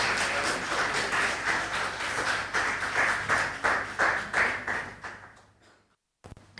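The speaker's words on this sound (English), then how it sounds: "Please, a big round of applause," Audience applause at a strategic dialogue conference in Indonesia greets a speaker, who is the Coordinating Minister for Economic Affairs. The clapping is dense and steady, then fades out near the end, followed by a brief pause.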